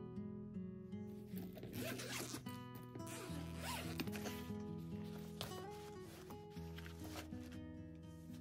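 Someone opens a luggage zipper while unpacking after a trip, with a long run of close, raspy zip strokes over steady background music.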